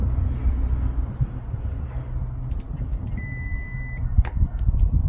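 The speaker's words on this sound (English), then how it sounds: "hold the button for minimum 5 seconds until you hear a beep" A Ford Kuga MK2 electric tailgate gives a short, steady confirmation beep of about a second midway through, heard faintly above a low outdoor rumble and a few scattered clicks.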